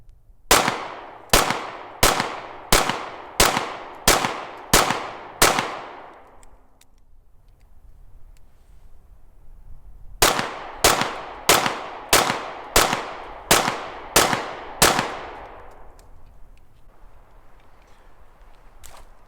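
A Remington R51 pistol fires Winchester Ranger 124 grain SXT +P rounds in two strings of eight sharp, evenly spaced shots, each cracking loudly with a short ringing decay, a quiet pause between the strings.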